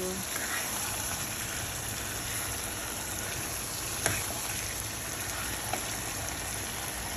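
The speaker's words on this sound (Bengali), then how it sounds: "চিকেনগুলো দিয়ে দিব দিয়ে দিলাম ভালো করে নেড়ে চেড়ে রান্না করব" Chicken pieces frying in hot oil with onions in a pan, giving a steady broad sizzle with a couple of faint clinks from stirring.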